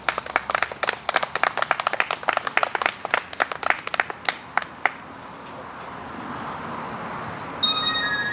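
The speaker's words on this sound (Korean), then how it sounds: "박수로 청해 들어보겠습니다." A small audience at a charity concert claps to welcome a singer to the stage, a few seconds of distinct, scattered hand claps that thin out and stop, leaving quiet room noise and a faint tone at the end.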